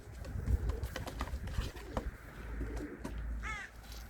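Pigeons cooing in a village loft, soft repeated coos close by under a steady bed of rustling and background noise, with a brief chirp near the end.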